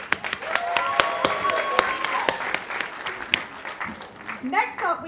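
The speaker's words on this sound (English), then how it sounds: "Let's give them another round of applause" Lively applause and scattered sharp claps from an audience at a community volunteer awards evening, for performers, with a voice briefly cutting in at the end.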